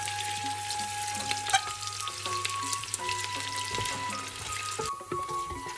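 A chopped large onion frying in oil for achari mutton, a steady close sizzle with crackling pops and a faint tonal hum running beneath until a brief clatter near the end.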